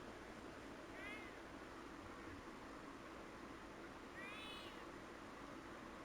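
A cat meows twice at a distance, two faint, brief calls a few seconds apart over a steady background hiss, heard during a Shaolin vs Wutang 2 fighting game session on PS5.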